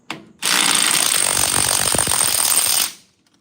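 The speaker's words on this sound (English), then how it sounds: "this little impact, the battery's charged up." A small battery impact wrench hammers loudly in one sustained burst of about two and a half seconds, working on a knock-off wire wheel of a 1963 Impala, then stops abruptly into near silence.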